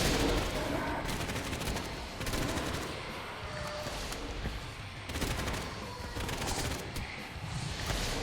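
Rapid gunfire from an AK rifle and a shotgun in a VRChat zombie shooter, dense repeated bursts of shots filling the scene with little pause.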